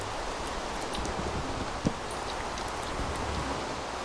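Steady rain falls in the video game Minecraft running the Better Than Wolves mod, an even hiss of drops with one brief soft tap partway through and no speech.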